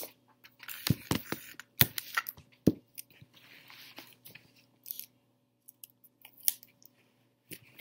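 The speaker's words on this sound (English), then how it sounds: "I'm gonna tape the paper to my table so it doesn't move." Tape is pulled and torn to fix paper onto a table for a sticky honey sensory painting, heard as a run of close, sharp ripping and crackling bursts in uneven clusters with quiet gaps between, and no talking.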